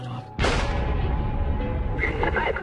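A single loud gunshot booms suddenly after a quiet moment, its heavy rumble lingering and reverberating for the rest of the clip.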